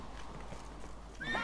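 A horse in The Witcher 3 gallops with quick, steady hoofbeats, close and moderately loud, then gives a short, high whinny near the end.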